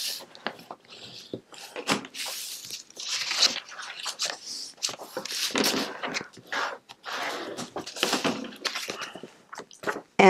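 Card paper folded and creased along score marks, giving close, continuous crinkling, rustling and crunching with uneven bursts and brief pauses, alone without talk.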